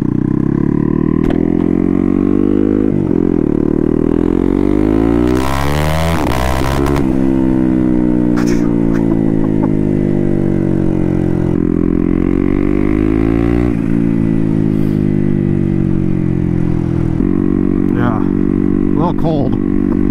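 A turbocharged Honda Grom motorcycle with a CBR engine swap revs repeatedly close up, pitch rising and falling with each throttle blip, exhaust loud and continuous throughout.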